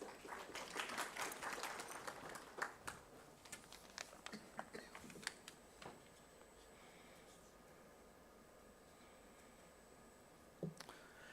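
Audience applause at a global summit on strengthening food systems for nutrient-rich crops, greeting a speaker: fairly faint, scattered claps that are fuller in the opening seconds, then thin out into sparse isolated claps over quiet room tone.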